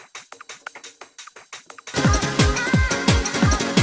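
A funky house loop, sped up to drum and bass tempo for an intro. It opens with a sparse, crisp percussive pattern, then full drums with thumping kicks and a dense, bright top layer come in at a quick, driving pace.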